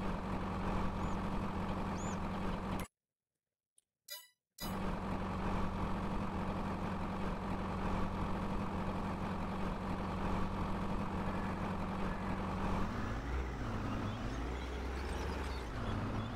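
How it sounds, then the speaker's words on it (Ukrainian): A crawler tractor in Farming Simulator 22 idles with a low, steady diesel rumble. The rumble cuts out briefly for about two seconds early on, then resumes, and its tone shifts slightly near the end. "Чи все-таки цей гусеничний трактор не хоче працювати?"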